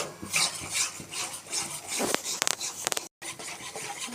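Wheat flour roasting in ghee in a wok is stirred with steady rubbing, scraping strokes against the pan, a close, continuous rasping with a few sharper clicks and no talk.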